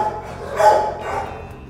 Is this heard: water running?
no